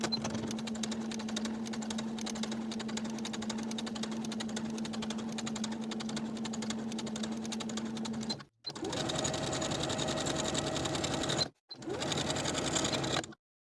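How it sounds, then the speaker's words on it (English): A sewing machine top stitches a side panel on women's colorblock pants with a quarter-inch seam allowance, running in a steady close whir for about eight seconds, then in two shorter bursts after brief stops. "Top stitching with a 1/4 inch seam allowance."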